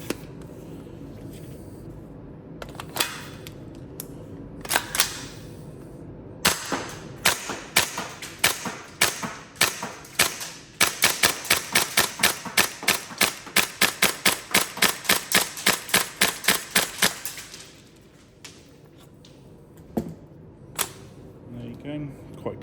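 A Tokyo Marui MK18 gas blowback airsoft rifle fires sharp close cracks indoors in the cold, first a few single shots, then a long rapid run of evenly spaced shots that tails off, followed by a few isolated clicks.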